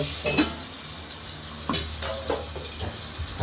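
Fish head frying in a pan, heard as a continuous low sizzle with intermittent stirring scrapes and a few utensil knocks close by, no speech.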